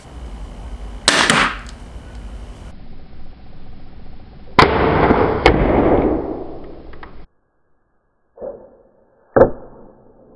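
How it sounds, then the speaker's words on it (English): A crossbow rated at 370 feet per second fires bolts at a target's center point: sharp, loud snaps of release, each followed by a brief rattling decay, with a couple of fainter thuds after a pause. "I'm going to shoot the center point. It shoots at 370 feet per second."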